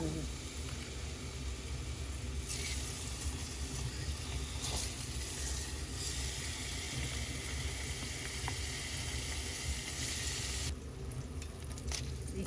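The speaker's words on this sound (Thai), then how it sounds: "เขาต้องทอดเบคอนก่อนค่ะ" Bacon fries in a pan for a spaghetti carbonara, a steady crackling sizzle close by that runs throughout, with a brief hissing rise partway and a faint low hum beneath.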